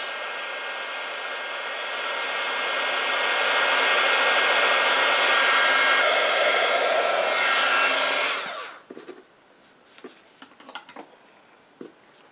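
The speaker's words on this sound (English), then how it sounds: "grab my heat gun. I'm going to melt the edges of the ribbon just a little bit, so turn it on" A heat gun runs to melt the fibres along a ribbon's edge for a decorated craft tag, giving a steady, loud blowing roar for about eight seconds before it cuts off, leaving faint handling clicks.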